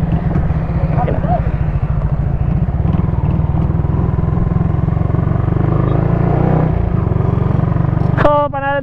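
A Yamaha Sniper motorcycle with a remapped ECU being ridden, its engine droning loud and steady up close throughout, with a brief rising rev near the end.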